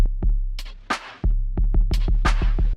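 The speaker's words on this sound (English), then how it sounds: "at the start of each bar, it's going to start repeating those kick drums." Electronic drum beat run through Ableton's Beat Repeat effect, its kick drums stuttering into rapid repeated hits among snare strikes, loud and upfront with no voices.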